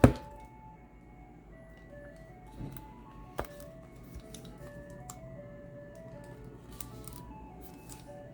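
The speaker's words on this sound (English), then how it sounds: "just in time to be serenaded by the ice cream truck." An ice cream truck jingle plays outside, a faint tinkling melody drifting from a distance against quiet background hiss, with a couple of soft thumps nearby.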